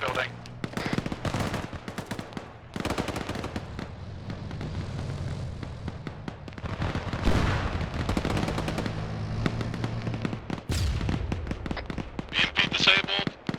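In Arma 3, mortar rounds strike a lodge building amid a military firefight, with repeated heavy booms and rattling bursts of gunfire spread through the scene. Loud impacts return in clusters over a noisy battlefield background.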